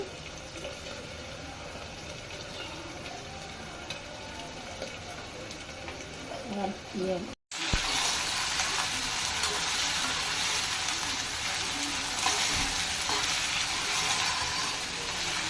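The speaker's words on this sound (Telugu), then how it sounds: "చికెన్ ఫ్రై చేస్తున్నానండి" Chicken frying in a pan in a home kitchen gives off a continuous broadband sizzle, steady and close, with a brief cut partway and a slightly louder hiss afterward.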